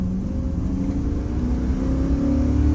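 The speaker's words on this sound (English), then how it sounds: "So, wide open throttle." A 1999 Chevy Silverado with a 5.3L V8, running lean, held at wide open throttle: a loud, steady engine drone that climbs gradually in pitch as it pulls, with no voices.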